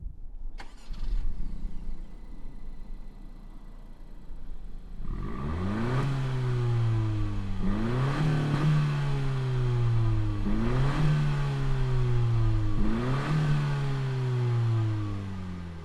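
A 2020 Honda Civic Si engine cranks and catches, then settles to idle before four sharp throttle blips rise and fall in a regular rhythm, loud and close with no talk.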